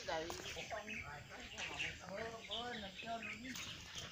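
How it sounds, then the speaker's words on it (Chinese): Birds chirp and sing outdoors near a barbecue area, with short repeated tweets and trills coming through over a steady background, fairly faint and continuous. "听鸟叫声真好"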